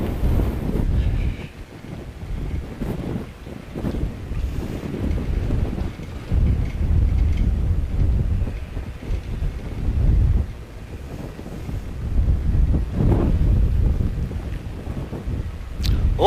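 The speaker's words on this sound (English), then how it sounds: "Wow, that wind is crazy." Strong gusty wind at Christchurch Airport buffets the microphone with heavy low rumbling that surges and eases over about sixteen seconds, loud and continuous with no talking.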